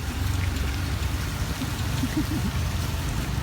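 Continuous rain falls and patters steadily around an outdoor grill during a rainy gathering, a dense even wash of sound with no pauses and no talking.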